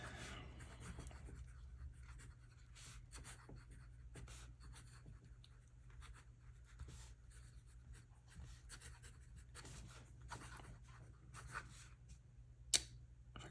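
Esterbrook Estie Honeycomb fountain pen writing cursive on paper, faint scratchy nib strokes in short irregular bursts with quiet pauses, close and soft.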